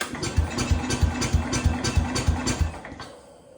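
A Cub Cadet International 105 snowblower engine runs rough in cold weather, chugging with an uneven pulsing beat at close range before fading toward the end.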